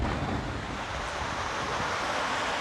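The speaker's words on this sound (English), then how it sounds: "Look at the ocean, man." Ocean surf at Montego Bay, Jamaica, a continuous broad wash of waves mixed with wind buffeting the microphone, steady and fairly loud with no voices.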